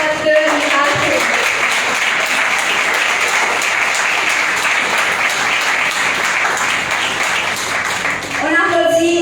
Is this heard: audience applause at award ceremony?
yes